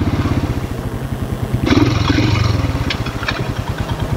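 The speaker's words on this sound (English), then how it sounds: "You can be in a higher gear, and like I'm doing right now, just sort of like chug along." A 2018 Royal Enfield Himalayan single-cylinder motorcycle engine chugs steadily at low revs in a high gear while riding, a continuous close, loud pulsing thump with some clatter and no talk.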